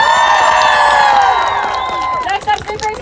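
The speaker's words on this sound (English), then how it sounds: "Let's give her another round of applause." Outdoor crowd at a climate strike rally in Washington DC cheers and applauds loudly, with whoops and shouting layered over continuous clapping that briefly dips near the end.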